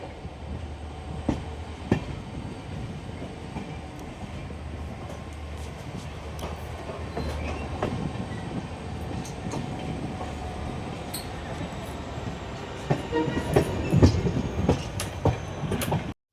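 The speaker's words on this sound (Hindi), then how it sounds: "80 गति के साथ आगे बढ़ती हुई हमारी ट्रेन 14720 अमृतसर बीकानेर एक्सप्रेस" The Amritsar–Bikaner Superfast Express 14720 running on rails at speed near Sri Ganganagar, a steady low rumble with occasional clicks of wheels over joints and rising clatter near the end, heard from on board.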